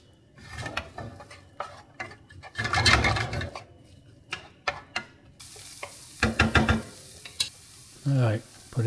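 Onions hitting hot oil in a pan on a stovetop, a steady sizzle and crackle that swells loudly and fades, with bursts of stirring and scraping, all without voices.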